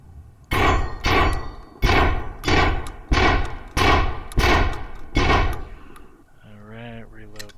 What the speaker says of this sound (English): All right, shotgun time.